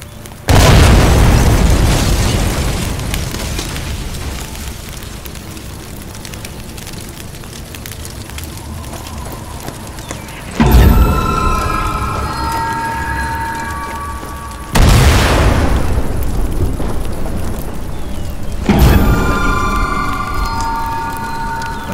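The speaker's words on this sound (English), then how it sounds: "is this explosion gonna kill me?" Deep explosions in the video game Sniper Elite 4, several heavy booming blasts spaced seconds apart, each followed by a long rumbling, crackling decay over a continuous loud background din.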